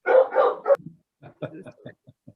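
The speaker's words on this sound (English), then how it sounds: "The dogs are barking." Dogs bark in a quick cluster of three close barks, followed by softer scattered yips and short barks trailing off.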